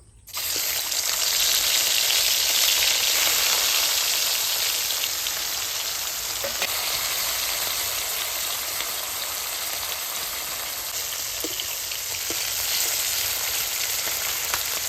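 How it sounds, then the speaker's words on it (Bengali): Shing fish, rubbed with salt and turmeric, dropped into hot mustard oil in a kadai: a sudden loud hiss bursts in at once and settles into a steady, close, crackling sizzle that carries on alone, with a few faint pops. "গরম তেলের মধ্যে মাছগুলি দিয়ে দেব"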